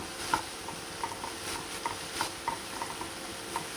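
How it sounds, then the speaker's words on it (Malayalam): A spoon stirs capsicum and small onion sautéing in a pan, with a series of light metallic scrapes and taps at an irregular pace over a soft, steady sizzle. "ഇതൊന്ന് വാട്ടിയെടുക്കാം"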